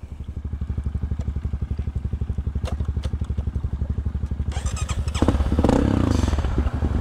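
A Honda CRF 250 motorcycle engine, after being submerged in a flood, idles close by with a steady rapid putter, then revs up briefly with a rougher, louder burst near the end.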